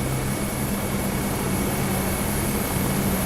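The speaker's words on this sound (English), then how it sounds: "Getting lots of helicopter sounds." Helicopter rotor and engine noise in Microsoft Flight Simulator 2024, a dense, steady roar with a low throbbing drone that runs unbroken and loud, with no voices.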